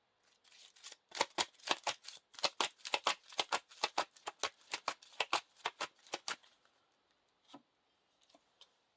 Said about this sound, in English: And shuffle him back into the encounter deck.